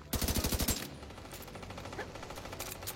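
Gunfire in a video game: a rapid burst of automatic shots rings out near and loud, then eases into softer scattered firing and background battle noise.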